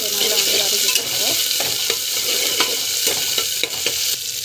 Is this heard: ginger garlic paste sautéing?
yes